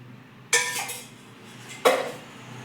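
Cornflour and two spoons of oil being stirred into a bowl of marinade for tandoori chicken leg pieces, two sharp clinks of a spoon against the bowl followed by softer scraping, close and with no talking.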